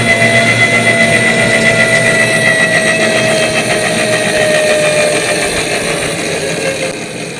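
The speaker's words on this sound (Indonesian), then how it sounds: "Demikian kurang lebih suara motor listrik kereta gantung ini. Cukup kencang ya." A cable car's electric motor gives a loud, steady mechanical hum with a high whine on top, gradually sliding down in pitch and fading slightly toward the end.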